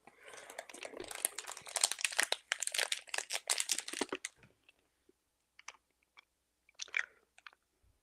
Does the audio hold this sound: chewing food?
yes